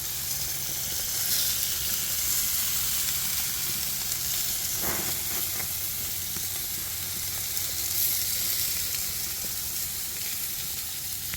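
Food sizzling steadily on an outdoor grill, a constant bright hiss throughout with a brief faint clink partway through.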